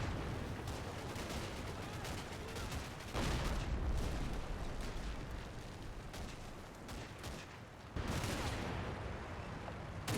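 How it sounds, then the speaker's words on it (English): Artillery barrage in the Combat Mission video game, a dense continuous rumble of distant shell impacts with heavier close blasts at about three and eight seconds, no voices. "The artillery barrage that is falling"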